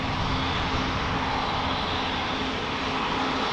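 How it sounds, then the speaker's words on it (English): A KLM airliner taxiing at Amsterdam Schiphol toward runway 18 Left, its engines giving a steady, continuous broadband roar with a faint tonal hum, moderately loud and unchanging throughout, no voices. "KLM flight 601 taxiing to 18 left for LAX"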